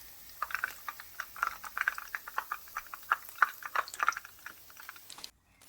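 Chicken pieces frying in hot oil give a busy crackle of small, sharp pops and sizzles at a moderate level, close by, with no voices, then a brief stop at the end.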